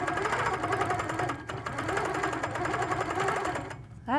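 A sewing machine stitches a quilt in steady, fast, rhythmic bursts, running loud and close almost without pause before stopping near the end.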